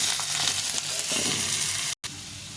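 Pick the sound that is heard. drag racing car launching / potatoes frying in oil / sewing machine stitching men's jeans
potatoes frying in oil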